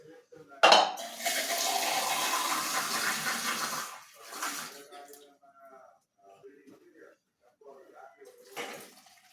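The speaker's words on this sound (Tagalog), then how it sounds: "Lalagyan na natin ng tubig." Water gushes into a metal pot of pork nilaga for a few seconds, followed by clinks of cookware and quiet talking.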